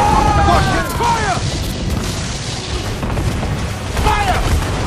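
Repeated booming blasts of ship cannon fire in Assassin's Creed IV: Black Flag, with crashing impacts and shouting voices over the naval battle.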